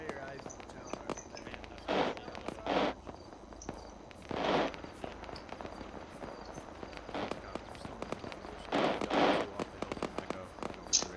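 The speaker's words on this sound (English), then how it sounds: "It's an awful lot of gunfire." Scattered distant bursts of gunfire in the video game ArmA pop and crackle irregularly, faint and far off, over a low steady background hiss.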